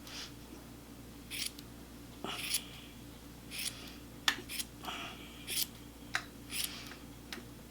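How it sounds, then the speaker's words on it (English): Scissors snip through woven yarn while trimming a brown twill shawl, a series of about a dozen short, crisp cuts at an irregular rhythm, close and fairly quiet. "I really should have a bigger scissors."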